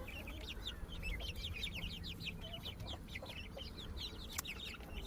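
Chickens from a first hatch, grown chicks ready to move to a bigger coop, cluck and chirp continuously in many overlapping high calls over a steady low background hum.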